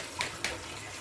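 A knife and dish are rinsed under a running kitchen tap, giving two short, quiet splashes of water close by.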